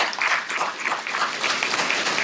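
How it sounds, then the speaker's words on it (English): An audience at a banquet breaks into dense, sustained applause, with many hands clapping at once. The sound is loud, close and continuous for the whole stretch. "let's give them a big round of applause"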